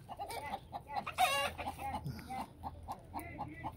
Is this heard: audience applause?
no